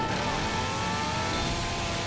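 Chainsaw in the PC shooter Left 4 Dead 2, a steady loud buzzing engine roar with a rough mid-range drone, running continuously without pause and no talk over it.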